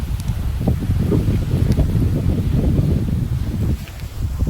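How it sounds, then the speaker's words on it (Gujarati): Gusty wind ahead of a rainstorm rushes and buffets the microphone, with leaves rustling in a continuous, loud roar. "પવન સાથેનો વરસાદ આવી રહ્યો એવું લાગે છે આપણને આજે।"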